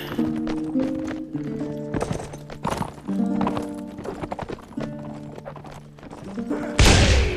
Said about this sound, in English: So there goes the horse.